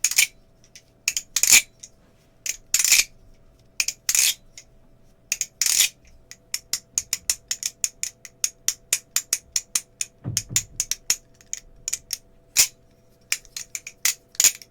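Sharp metallic clicks and clacks of a Flytanium Talisong Z balisong knife being flipped come in quick bursts, then settle into a rapid, fairly regular clicking rhythm, close and crisp with no talking.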